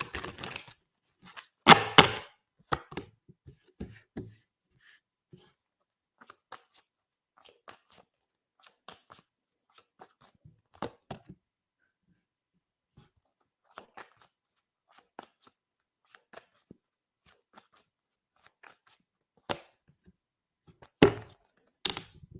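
Tarot cards are shuffled by hand in a quiet room, with scattered soft slaps and riffles and one louder burst of shuffling near the start.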